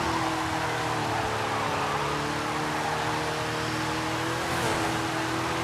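In Forza Horizon 5, a car's wheels spin in 9th gear under a loud, steady engine drone with a constant tire roar, holding a sustained high-revving tone without a break.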